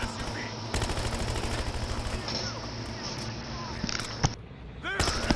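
Automatic gunfire from an R0933 rifle in the video game Battlefield Hardline, with sustained rapid bursts rattling through most of the clip and a brief pause near the end before firing resumes, alongside game sounds.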